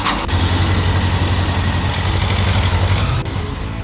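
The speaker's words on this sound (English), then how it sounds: "I wanted to hear this bike run before I fully tore it down" A 1995 Honda CB1000 motorcycle engine runs steadily at idle, a loud, close, continuous low rumble with a slight drop near the end and no talking.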